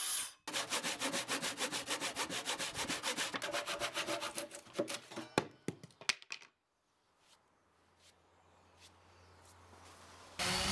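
Rapid, rhythmic back-and-forth sanding of a 2x4 timber workbench, with loud close strokes for about six seconds before it stops, leaving a quieter rustle and a brief final burst.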